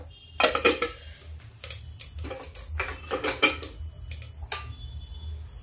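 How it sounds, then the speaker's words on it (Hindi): Cumin seeds dropped into hot oil in a pan while making aloo gobhi, giving bright crackling sizzles and pops in several bursts over a steady low hum. "तेल गर्म हो गया। देखिए, 1 चम्मच जीरा डाल दिया।"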